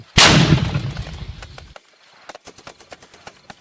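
Heavy artillery fire for a radio drama: one loud, booming blast opens and rumbles for over a second, then a rapid run of sharp, crackling shots follows in a steady rhythm.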